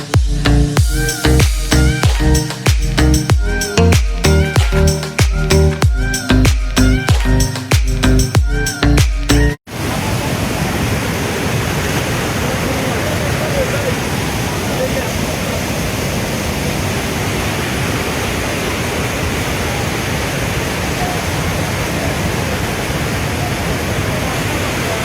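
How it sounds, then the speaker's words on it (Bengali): Shoilopropat waterfall in Bandarban roars as a loud, steady wash of falling water, continuous and close, following a stretch of rhythmic music. "আমরা এখন শৈলপ্রপাত ঝর্ণাতে"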